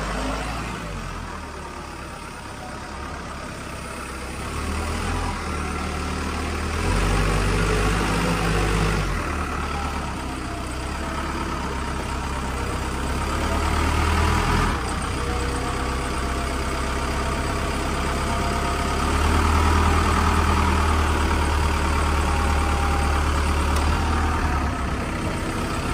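A vehicle pushes through a snowdrift with a low, heavy engine rumble that swells and surges as it labors, accompanied by a broad rushing scrape of snow, loud and continuous.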